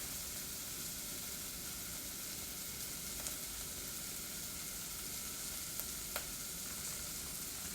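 Shrimp frying in a pan for a New Orleans dish, giving an even, moderate sizzle throughout with a couple of faint clicks from stirring, no one talking.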